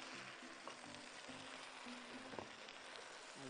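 Soy sauce hits a hot pan of sliced beef fillet, setting off a steady, even sizzle and crackle that runs throughout with no one talking.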